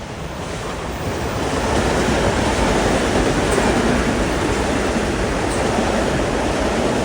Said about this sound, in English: Here comes 1563, New Haven to Grand Central at 2:12.